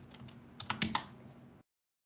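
Someone types a command on a computer keyboard, a quick burst of close, crisp key clicks that builds to a few sharper strokes and then stops abruptly into silence.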